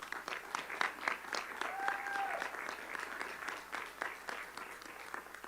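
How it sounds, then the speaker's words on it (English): People at a board of education meeting applaud for several seconds, a moderate room full of clapping with distinct individual claps audible and a faint whistle or squeak partway through. "How about another round of applause?"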